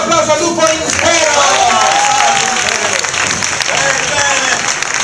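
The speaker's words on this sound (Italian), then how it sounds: "Oh, un bel applauso al lupo intero!" Theatre audience applauding during an outdoor Little Red Riding Hood show at the 2011 Rocca di Luna event, a steady, loud wash of clapping with a voice calling out over it.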